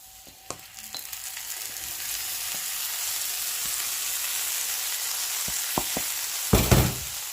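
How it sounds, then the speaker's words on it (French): One kilogram of washed, still-wet basmati rice fries in hot oil, giving a steady, close sizzling hiss that builds gradually and flares into a louder burst near the end, with no talking. "Maintenant, je vais faire rissoler mon riz"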